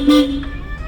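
A car horn gives one short, loud honk near the start, heard from inside a car during a driving lesson on a city road, with engine and road noise continuing under it.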